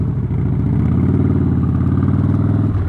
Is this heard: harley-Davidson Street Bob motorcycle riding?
yes